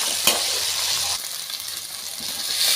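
Onion and garlic sauté in a pan, giving a close, steady sizzle with a sharp utensil clink at the start. No voices are heard.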